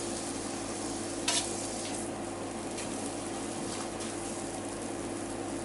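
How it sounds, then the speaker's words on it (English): Flatbread fries in fresh oil in a pan, giving a continuous moderate sizzle broken by one short clatter near the start. "I'm just going to fry those off"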